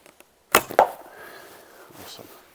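A Turkish-style laminated bow releases an arrow up close: a sharp string snap, then a quick thump and whoosh, followed by a fading ring and faint background noise.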